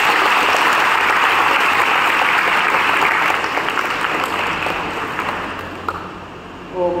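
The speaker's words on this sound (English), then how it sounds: "Please give them all a big round of applause." A large audience applauds loudly and steadily at a medical college white coat ceremony, the dense clapping slowly thinning and fading toward the end.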